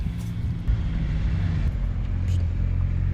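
A Can-Am Ryker three-wheeler rolls along at night and slows down, its steady low engine and road rumble close by with a faint rise and dip toward the end.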